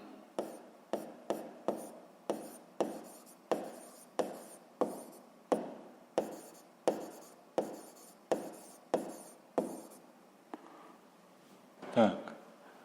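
A pen scratches across paper during a physics lesson in a series of evenly spaced strokes, close by. A handling noise follows near the end.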